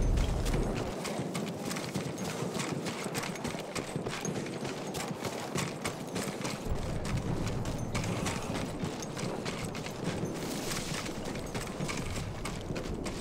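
Horse hooves clip-clop in the World War I shooter Battlefield 1, a fast, busy run of hoofbeats with some mechanical clatter, steady and fairly close throughout, with no talk over it.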